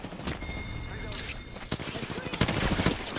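Rapid gunfire bursts crackle through a squad shooter match, fast sharp shots stacking into dense volleys that grow louder toward the end, with voices talking underneath.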